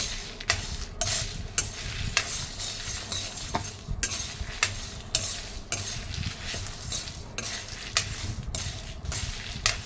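Dry chillies and coriander seeds roasting in a dry pan while being stirred give repeated close clinks and scrapes of a spoon against metal in an irregular rhythm, with no talking.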